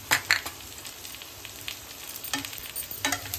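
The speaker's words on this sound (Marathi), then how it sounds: "खडे मसाले पण भाजून घेऊ." Whole spices being dry-roasted and stirred in a pan for misal, giving a soft steady sizzle broken by a few sharp scraping taps of the spoon, close by with no voices.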